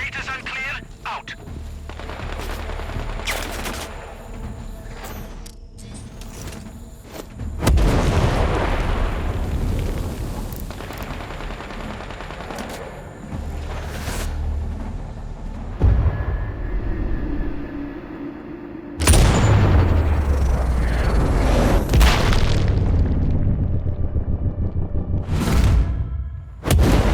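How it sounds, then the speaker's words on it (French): Mortar fire pounding a position in Sniper Ghost Warrior Contracts 2, heavy rumbling explosions rolling in waves over a dense battlefield din, with radio-style voices talking in between. "Tango under mortar fire."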